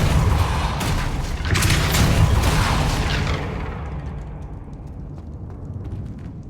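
Depulso spell cast in Hogwarts Legacy on PC, a dense rumbling blast and debris wash that fades into quieter game ambience after a few seconds.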